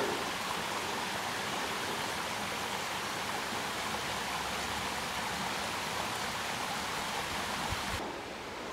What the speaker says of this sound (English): another little waterfall up the gully, which was in front of us